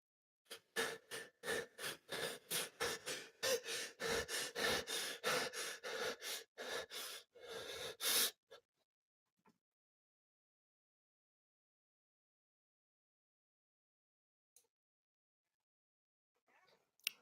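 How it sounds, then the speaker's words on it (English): Breathing sound effect for a running character: a fast rhythmic series of short panting gasps, close and alone, stopping after about eight seconds into near silence with a few faint clicks. "It sounds much more believable when you're running and you've got the sound of breathing."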